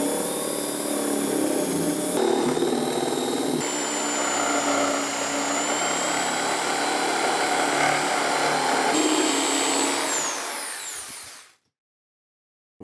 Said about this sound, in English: drill out a couple starter holes and cut it with the jigsaw